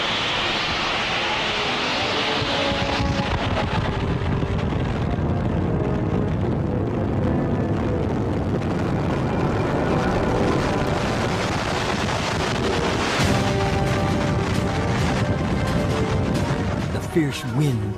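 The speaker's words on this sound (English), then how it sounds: "Fierce wind claws at the terrified group huddled under the bridge." Fierce tornado wind roars continuously during the 1991 Wichita, Kansas tornado, a loud, dense rumble with gusting surges that persists the whole time and seems to have voices buried under it.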